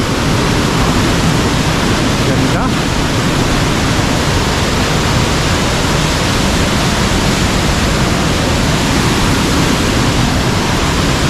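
Spring water gushing hard after rain at a resort near Calapan, Oriental Mindoro, a dense, steady roar of rushing water that fills the whole stretch, close and loud with no letup.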